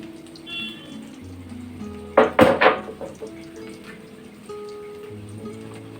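Freshly ground poppy seed paste is scooped into a bowl for a taro stolon dish: a quick cluster of spoon clinks and scrapes against the dish, close by, between quieter stretches with faint background tones.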